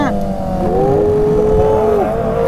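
A motorcycle pulls away and accelerates, its engine whine rising steadily in pitch at close range and holding loud and constant throughout.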